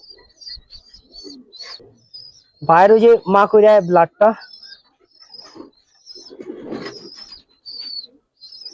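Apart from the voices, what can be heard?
pigeons cooing in a Giribaz pigeon loft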